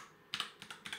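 A password is typed on a computer keyboard, a short quick run of soft key clicks in a quiet room.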